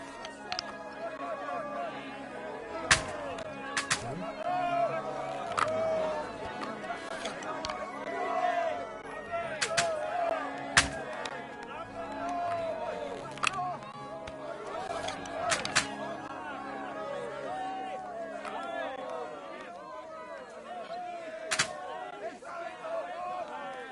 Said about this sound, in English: Why is it shooting after me?